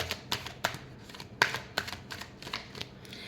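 Tarot cards are shuffled by hand in a quick series of crisp, papery riffles and taps, close and fairly quiet with no voice.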